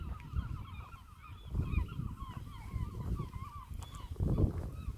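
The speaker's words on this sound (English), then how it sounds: "God, those birds are noisy, aren't they?" A flock of geese honks continuously nearby, with overlapping nasal calls over rumbling outdoor noise and a louder burst near the end.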